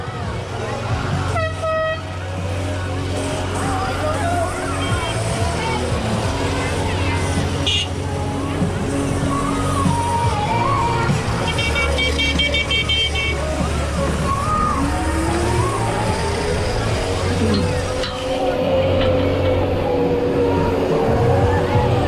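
Endurance race cars at a Maker Faire Orlando 2021 event pass a track corner, their steady motor drone running throughout with bursts of horn-like tooting and a busy crowd murmuring nearby.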